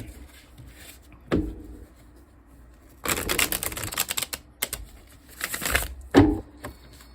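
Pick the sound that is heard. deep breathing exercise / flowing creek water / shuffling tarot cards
shuffling tarot cards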